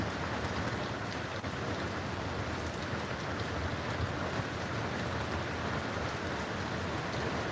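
Heavy rain pours steadily and loudly over a dark, stormy night in southeastern Oklahoma during a severe tornado warning, a dense unbroken hiss with no voices.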